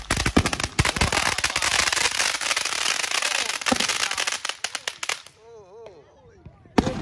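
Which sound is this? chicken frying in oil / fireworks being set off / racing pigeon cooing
fireworks being set off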